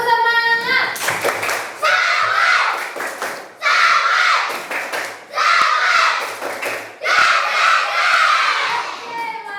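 Elementary school pupils in an Indonesian classroom doing the tepuk semangat rhythmic clap, with four loud bursts of patterned clapping mixed with shouted voices, separated by short pauses.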